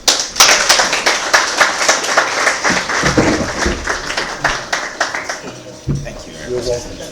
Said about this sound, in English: a round of applause for the Consul